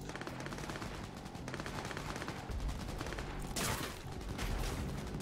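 Sustained automatic gunfire in the shooter Cyberpunk, a dense rattling stream of rapid shots with heavier blasts and a bright crack partway through, close and continuous without pause.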